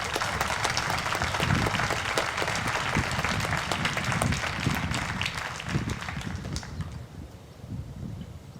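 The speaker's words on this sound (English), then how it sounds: "So please give Michelle a round of applause." Outdoor crowd applause at a Black Lives Matter protest in Commons Park, Lake Mills, clapping steadily and fairly loud for several seconds before thinning out near the end.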